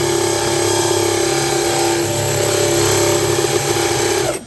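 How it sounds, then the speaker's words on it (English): A power drill whines steadily at high speed while boring holes through a car floor for a heater installed under the passenger seat, loud and close, then spins down abruptly at the end. "I'm going to drill two round holes, and then we're just going to use the jigsaw to connect them"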